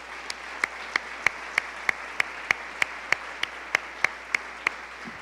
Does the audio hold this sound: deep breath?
no